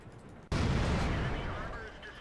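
A single heavy tank cannon blast in World of Tanks, arriving abruptly as a loud, booming burst that rumbles and slowly decays over the following two seconds.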